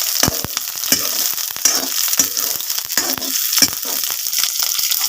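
Onions frying and sizzling in a pan for a village-style vegetable dish with wild mushrooms, a steady bright hiss broken by clattering stirs of a spoon, close and loud with no talk.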